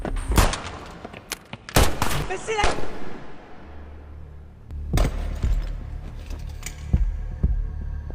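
Several sharp gunshots ring out in a tense film shootout, loud broadband cracks clustered early and again later over a low rumbling background, with speech and score mixed in.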